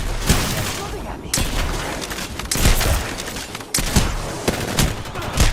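Bursts of gunfire in the Free Fire battle royale game at an esports watch party, several loud volleys with short gaps between them, with speech mixed in.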